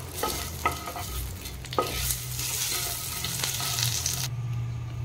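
Cloves, star anise, cinnamon and bay leaf fry and sizzle steadily in hot oil for a cabbage curry, with a few stirring scrapes and clicks of a utensil in the pan, close and continuous without talk.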